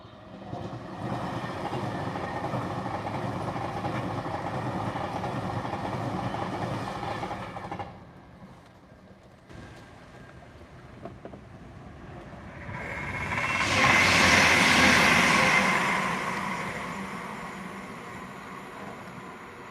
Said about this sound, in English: Here we've got a Pendolino.